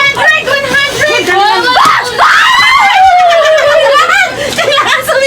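Several people at a family reunion meal scream and shriek excitedly, loud and close, with laughter, giggles and children's voices mixed in throughout.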